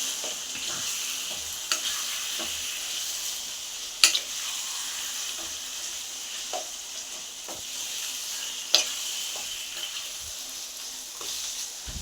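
Raw mango pickle thickening in a pan as it is stirred, giving slow, irregular scraping strokes with a few sharper clinks over a soft, steady bubbling sizzle.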